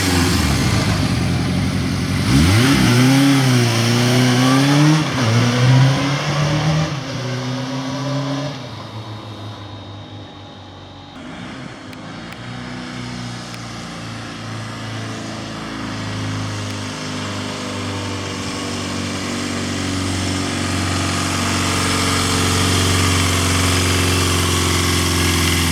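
A classic motorcycle engine runs steadily during a ride around the block, revving up early on and then settling into a rough, loud, continuous drone close to the mic, with no talking.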